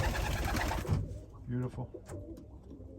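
Racing pigeons coo in a loft, a short burst of low throaty coos close by following a man's spoken remark.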